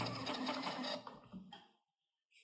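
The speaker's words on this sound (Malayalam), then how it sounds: "ആൻഡ് പ്രിന്റ് ബില്ല് ചെയ്യുക." A bill printer prints a receipt in a quick buzzing mechanical burst that lasts about a second and then trails off into a faint whir, followed by near silence and a brief final click.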